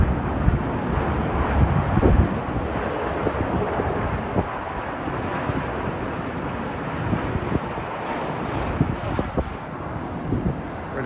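A Boeing 787-9 coming in to land at London Heathrow, a continuous broadband jet rumble roughened by wind buffeting on the microphone, loudest early and then holding steady.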